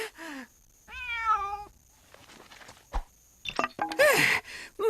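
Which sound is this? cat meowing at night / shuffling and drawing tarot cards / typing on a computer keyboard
cat meowing at night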